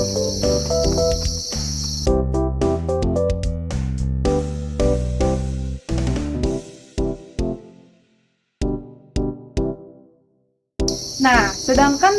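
Farmed crickets chirping, bright steady trilling at the start and end framing stretches of other sound with gaps of near silence, moderately loud with no speech.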